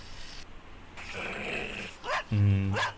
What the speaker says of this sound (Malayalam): നായന്തിനാ നിങ്ങൾ നോക്കി കുറയ്ക്കുന്നത്?